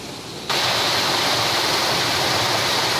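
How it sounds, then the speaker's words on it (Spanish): A stream in El Salvador flows away with a loud, steady rushing roar that begins abruptly and holds constant throughout, with no voices. "El agua se va por ahí."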